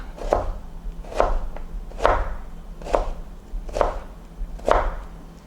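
Six evenly spaced knife strokes hit a cutting board while thin slices are cut for pho, each a crisp thud and scrape about a second apart, close and alone.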